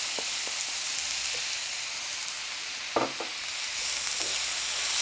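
Vegetables frying in oil for a Thai rice soup (jok) with mushrooms, a steady loud sizzle and hiss with a few soft scraping stirs of a utensil in the pan.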